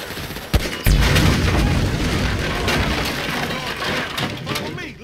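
Heavy cannon blasts and gunfire crack and boom in GTA V, one sharp hit followed by a thick, rumbling barrage that rolls on under shouting voices.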